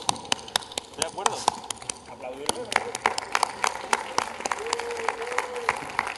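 Scattered applause from an audience at a live geek-culture panel event, sharp uneven claps rising and thinning over several seconds while people keep talking over it.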